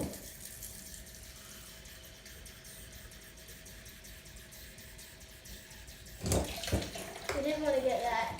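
Tap water runs steadily into a container while a cake is baked, a low continuous hiss for several seconds, then louder splashing and clatter as voices speak near the end.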